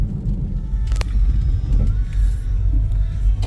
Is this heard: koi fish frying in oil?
no